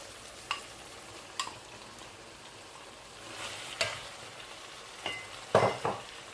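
Ground African pistachio (egusi) being stirred into a tomato sauce in a pot, gentle sizzling bubbles under several distinct spoon scrapes and clinks, growing busier toward the end.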